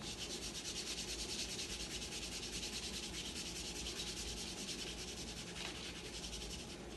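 A hand rubs quickly back and forth over kinesio tape applied to a knee, producing a soft, even, rhythmic friction rasp that is close, faint and continuous.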